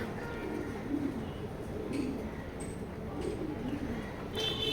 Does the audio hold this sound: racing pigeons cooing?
yes